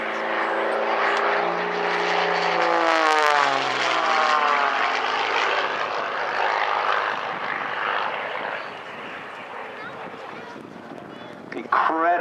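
A loud XtremeAir XA41 aerobatic propeller aircraft flies a display at an air show, its engine droning steadily and shifting pitch as it passes, then fading slightly toward the end, with a commentator talking throughout.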